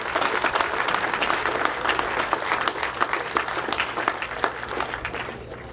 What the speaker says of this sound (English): please join me in a warm round of applause for appreciation for our staff and select board